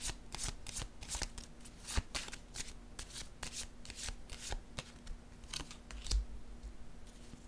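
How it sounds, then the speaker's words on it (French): Tarot cards are shuffled and drawn by hand, a quick run of crisp flicks and riffles repeating in an uneven rhythm, close up and quiet, with no talking. "Ok, attendez, je vais piger une autre carte."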